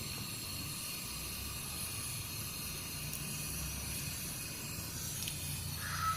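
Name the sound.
mustard seeds spluttering in hot oil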